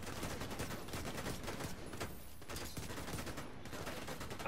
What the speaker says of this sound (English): they're shooting you in the back